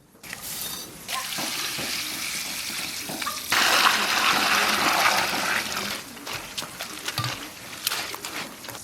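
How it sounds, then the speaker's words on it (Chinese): Seeded, snipped dried chili pieces and dried mustard greens are washed in water. Running water rushes and splashes continuously, swelling louder midway, with brief handling knocks near the end, close by and without talk. "把去过籽剪好的辣子段和梅干菜我就洗一下。"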